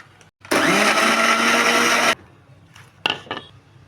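A mixer grinder runs a single short burst on peanut chutney with onions, a loud close whirring blend of about a second and a half that stops abruptly, followed by faint clinks and handling sounds.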